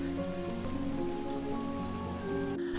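Heavy rain in an animated story falls steadily as a dense patter on surfaces under a soft sustained musical backing, with no speech.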